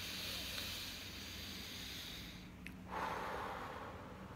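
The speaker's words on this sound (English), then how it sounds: "bring the breath up to your chest, and then breathe it all out" One slow, deep breath is heard up close, a soft airy hiss building into a fuller exhale, alone against quiet room tone.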